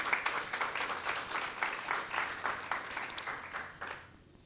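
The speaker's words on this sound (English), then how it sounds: "Let's give ourselves a round of applause." Attendees at a symposium on infant health applaud together in a moderately distant, steady wash of clapping that holds for several seconds, then drops away quickly into quiet room tone.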